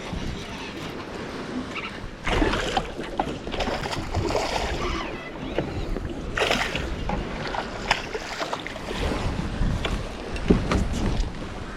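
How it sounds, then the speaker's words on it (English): Wakes from passing wakeboard boats slosh on a lake and wind buffets nearby, a choppy churn of water with passing engine rumble and splashes against a pontoon hull. "These wakeboard boats are just blowing me around."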